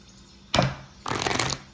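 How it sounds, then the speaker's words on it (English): Tarot cards are shuffled by hand in two quick papery bursts, one short riffle and then a longer flutter, close and alone. "One more shuffle here for May."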